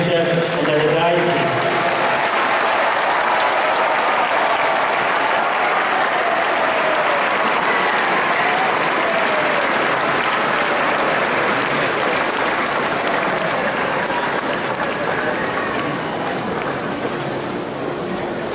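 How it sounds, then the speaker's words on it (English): A congregation gives long, loud, continuous applause for a new bishop at an Episcopal ordination ceremony, with a voice heard briefly at the start. "Let us give a good clap to the new bishop and let us rise."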